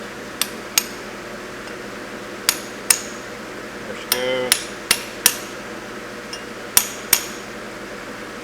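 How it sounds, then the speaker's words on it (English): Sharp metallic hammer taps on a part being fitted into a Monarch 10EE lathe during a rebuild, about a dozen distinct strikes in irregular clusters, close and clear, with a brief scraping rumble midway and a short spoken remark. "This one I might have to tap with a hammer."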